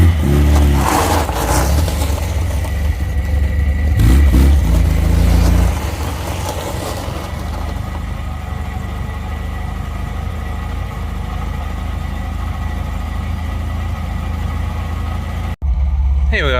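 An MGB's engine idles steadily after 28 years off the road, a loud, even rumble heard from inside the car, with a brief clatter early on and a short dropout near the end.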